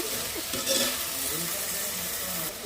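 Ridge gourd curry stirred in a pan sizzles and fries steadily, with soft scraping from the stirring under a continuous crackle.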